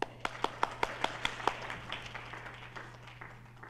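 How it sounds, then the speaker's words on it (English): At a celebration of Sister Nivedita's 150th birth anniversary, a small audience gives a brief round of applause: several distinct, fairly loud claps at first, then a softer, thinning patter that trails away over a steady low hum. "Everyone, please give her a round of applause."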